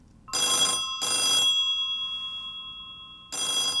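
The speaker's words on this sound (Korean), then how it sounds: "갑자기 전화 소리가 울렸다" An old telephone bell rings in loud, close bursts, two quick rings, a pause, then a third ring starting.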